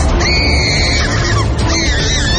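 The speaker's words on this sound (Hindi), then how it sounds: "रोजलिन चीख कर बेड से उतरने ही जा रही थी कि उसका बेड हवा में आवाज करता हुआ उठा और चिल्लाती हुई रोजलिन और तेज चिल्लाने लगी।" A woman screams loudly and continuously over a dense, noisy background in a horror audio story scene, her voice wavering across two long cries.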